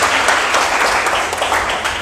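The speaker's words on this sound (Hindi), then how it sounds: "यहाँ पे ताली हो जाए" A congregation at a sermon breaks into loud, close, dense applause that holds steady for a couple of seconds.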